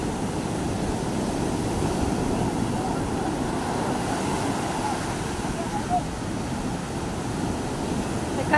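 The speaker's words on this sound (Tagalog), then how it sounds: "Teka lang, may alon." Steady wash of ocean surf and wind roars without pause, close and constant, with no distinct breaking wave standing out.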